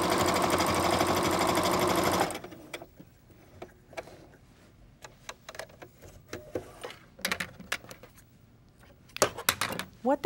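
Sewing machine stitching across the side seams of a bag to form a gusset, a fast continuous mechanical whir for about two seconds, then stops, followed by scattered handling clicks and taps.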